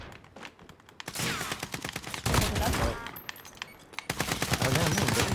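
Gunfire in Call of Duty Warzone, rapid automatic bursts crackling in several long strings with short pauses between them, close and loud.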